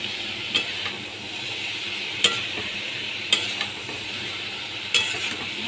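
Fried potato pieces and soybeans are stirred in a pan over a steady sizzle, with four sharp utensil scrapes spaced a second or two apart, close by.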